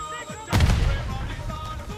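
A Semtex grenade detonating in Call of Duty: Warzone on Rebirth Island, one sudden loud boom with a rumbling tail that fades over a second amid game ambience.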